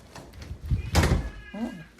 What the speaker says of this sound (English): oh, I could hear my kitty, my baby.